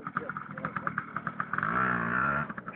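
Yamaha PW80 dirt bike engine running close by, a buzzing two-stroke note that revs up and holds high, with voices and shouting mixed in.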